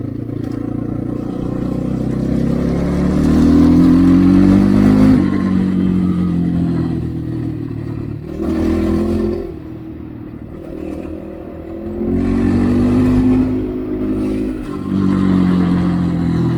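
A KOVI MAX 300 motorcycle being ridden, its engine droning loud and close with swells of revving and easing off in waves, plus a light rattle, and no voices.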